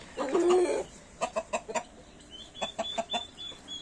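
A rooster and hens kept in a backyard coop cluck in a rapid series of short, close calls, with a higher squawk early on and steady clucking throughout, no talk.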